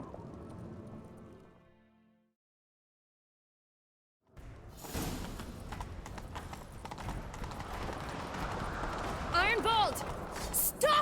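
Rapid rhythmic hoofbeats of galloping horses start after a brief silence, mixed with game sound effects and a whinny, steady and fairly loud, from the video game The Witcher 3: Wild Hunt.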